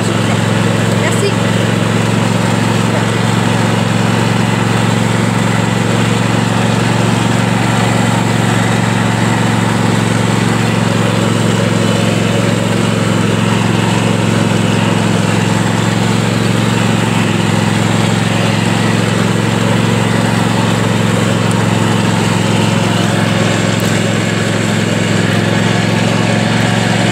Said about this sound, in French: le bruit du tracteur, il va comme couper le son du reste